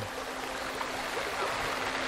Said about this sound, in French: Oh là là, il pleut, hein